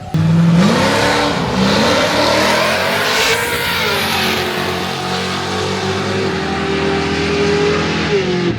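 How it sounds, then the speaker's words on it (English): A Mazda RX-8 engine revs hard and loud up close, its rotary note climbing and falling in sustained pulls, with the sound of racing cars around it. "I don't know what's in this Mazda RX-8, but holy crap."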